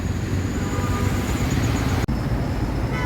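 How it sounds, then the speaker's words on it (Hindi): A metro train pulls into Delta 1 metro station, arriving from the depot with a loud steady rumble and a faint high whine, with one sharp break partway through and no voices. "ये गाड़ी आ रही है डिपो मेट्रो स्टेशन से, डेल्टा 1 के स्टेशन के अंदर प्रवेश कर चुकी है।"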